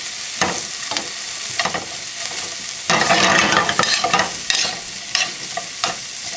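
Vegetables sautéing in butter and oil, a steady close sizzle with intermittent stirring scrapes and a louder burst of frying partway through.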